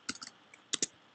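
Short bursts of clicking keystrokes on a computer keyboard, a few quick taps, a pause, then two more close, crisp presses, heard alone at low level.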